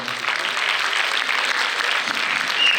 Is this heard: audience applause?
yes